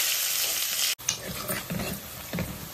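Chopped onions added to hot oil in a pan for a Telugu goat-head curry, sizzling loudly at first, then a stirred, crackling fry with intermittent scraping.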